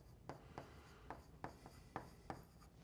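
Pen scratching across a worksheet in a biology lesson, six or seven short rhythmic strokes, quiet and close, heard alone.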